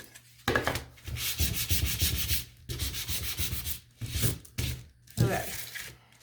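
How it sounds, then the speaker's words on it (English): Hand sanding with 400 grit sandpaper on a crafted egg piece, close rhythmic back-and-forth scrubbing strokes in several bursts separated by brief pauses. "the grit of sandpaper I have on this one is 400"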